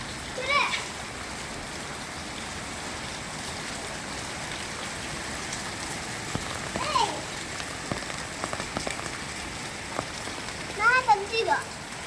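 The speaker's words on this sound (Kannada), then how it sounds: "ಮಳೆ ಚೆನ್ನಾಗಿ ಬಿದ್ದಿದೆ" Steady first rain of the season patters on surfaces all around in Sidlaghatta, with faint voices and a few louder splashes now and then.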